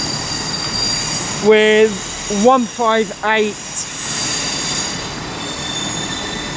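Wheels of a Class 158 train squeal at Birmingham New Street station in several short, loud, high-pitched bursts over a steady platform rumble, with a brief voice nearby.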